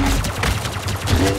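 Rapid blaster fire from a Star Wars Battlefront 2 match, a dense burst of repeated shots with booming low thuds running through the whole moment, loud and close, with game noise layered over it.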